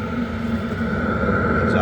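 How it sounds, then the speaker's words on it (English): Portable ruggedized diesel heater at operating temperature in a closed case, pushing out a steady, even rush of warm air with a constant low hum and faint tonal whine, continuous and fairly close. "You can hear the air coming out."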